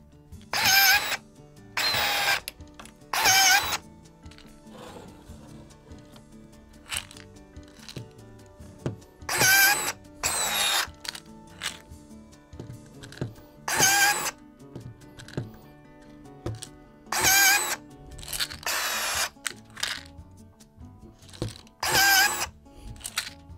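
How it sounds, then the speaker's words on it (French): Riveting clips onto a panel with a power rivet tool: sharp bursts recur irregularly over a quiet workshop background, each a short loud pop or whirr, with no one speaking. "nous allons passer à la phase de rivetage de celle-ci"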